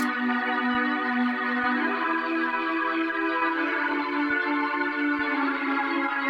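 A sustained, warm synth pad holds low chords, smooth and steady with slow harmonic shifts and faint soft clicks, playing alone without any talking.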